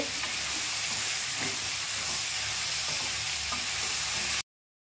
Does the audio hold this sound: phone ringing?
no